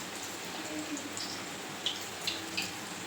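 Coconut modak deep-fry in oil on low heat with a soft, steady bubbling hiss and a few faint pops and drips.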